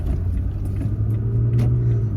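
A Toyota Tacoma pickup rolls through a bumpy turn, giving a steady low engine hum and road rumble from inside the cab, with no talking.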